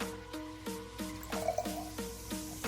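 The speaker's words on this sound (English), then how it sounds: "Coke Zero. Perfection. Let's go ahead and pour this in" Coke Zero poured from a bottle into a container makes quiet, rhythmic glugs about three times a second, with a slight fizzy splash and no talking.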